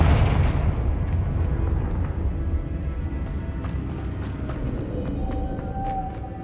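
The Confringo fire spell explodes in Hogwarts Legacy, a deep rumbling blast that fades into a sustained roaring crackle with faint clicks and a soft tone near the end.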